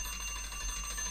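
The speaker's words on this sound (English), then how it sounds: "that's my alarm telling me I'm 15 minutes is up." An alarm bell rings continuously in a steady, bright metallic trill that stays loud and unbroken for the whole moment, with no speech over it.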